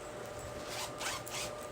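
The zipper on a shopping bag is drawn open or closed in a few quick, close, soft rasping pulls, faint and alone without talk.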